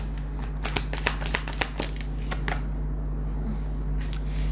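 Tarot cards are shuffled in quick riffling bursts close by, a dense flurry of crisp snaps that tapers to lighter flicks, with no talking.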